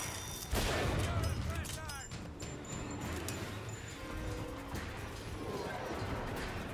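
Sniper and other gunfire in the game BioShock Infinite, heard as a dense crackle of shots and impacts with a loud burst near the start, mixed with ongoing combat noise and a voice.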